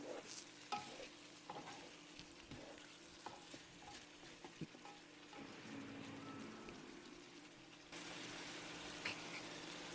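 Low-carb liver stew with vinegar and bay leaf is stirred in a pan, a faint, steady sizzle under soft scraping stirs and occasional clicks, the frying hiss swelling slightly toward the end, with no talking.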